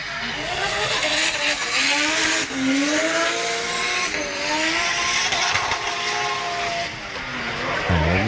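A Nissan S14 drift car screams around a track at a French drift event, its engine note rising and falling in sweeping pitch bends with tyre noise, loud and continuous.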